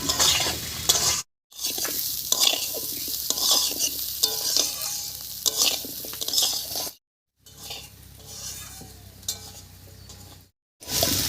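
A pan of potatoes and uncooked rice frying in oil for a Bengali ghonto gives a constant crackling hiss, with rhythmic spatula scrapes and clinks. The sound breaks off for short silent gaps, nearby and without speech.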